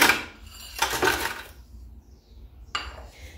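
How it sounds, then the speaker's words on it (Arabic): Biscuits dropped into a kitchen blender jar, two bursts of hard clattering and rattling against the container close by, then a brief pause before another short clatter. "ناخذ خلاط وغادي ندير فيه البسكوي ديالنا"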